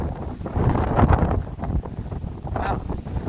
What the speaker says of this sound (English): Oh God, that's windy.